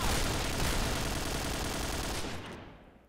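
Rapid automatic gunfire in the first-person shooter game Point Blank, a loud, dense burst of continuous shots that fills most of the clip before cutting off abruptly near the end.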